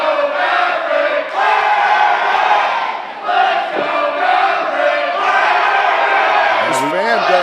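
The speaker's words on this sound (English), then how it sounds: "Fans are definitely split on who they're cheering for here." Crowd at a St. Louis wrestling show cheering and yelling continuously, a loud, dense roar of voices with shouts rising above it throughout.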